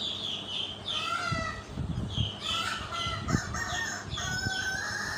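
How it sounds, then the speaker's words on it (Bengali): Desi chickens kept one per cage on a farm cluck and squawk in overlapping bursts, with a rooster crowing among them, close and busy against a low background hum. "প্রতিটা খাঁচায় একটা একটা করে দেশি মুরগি।"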